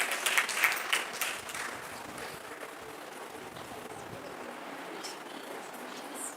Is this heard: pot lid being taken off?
no